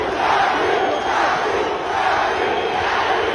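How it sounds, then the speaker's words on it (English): A large Brazilian crowd at an influencer boxing event roars continuously, a loud, dense wall of cheering and chanting that holds steady throughout. "you could hear how loud the crowd was"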